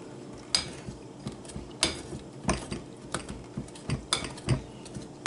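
Fork tines clinking and scraping against a bowl while butter is worked into flour for a shoofly pie crumble topping, giving irregular sharp taps spread over several seconds, close and moderately loud, with no talking.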